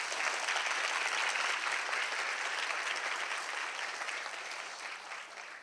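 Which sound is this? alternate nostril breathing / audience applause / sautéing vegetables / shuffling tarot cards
audience applause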